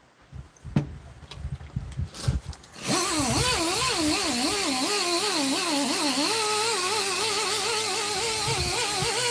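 After a few seconds of handling knocks, a rotary polisher spins up loud and close on a Honeywell Turbovisor visor, its whine wavering in pitch as pressure changes and then holding steady.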